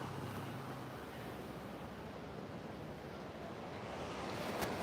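Ocean surf at an oceanfront spot, a steady broad wash of waves and wind noise running continuously with no talk.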